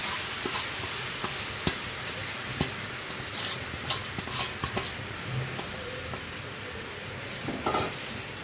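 Chopped raw mango poured into a hot pan for a sour, spicy and sweet pickle sizzles steadily and softly up close, with scattered clicks and light stirring taps throughout.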